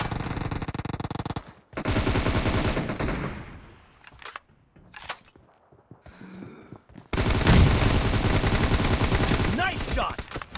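Rapid automatic gunfire from a PUBG Mobile team deathmatch, loud bursts of machine-gun fire with brief pauses and scattered single shots, then a long sustained volley near the end.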